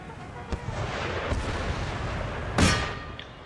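Artillery fire in Empire: Total War: a few booming cannon shots go off at spaced intervals, with a louder blast near the end, over a dense rumbling battlefield din.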